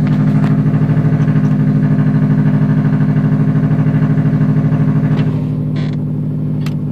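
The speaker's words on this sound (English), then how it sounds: "this is actually a cold start, so I'm gonna have to let the car warm up a little bit" A 2007 Subaru manual car idles after a cold start, its steady, loud low rumble pulsing evenly and close by, with a few faint clicks and a brief rattle near the end.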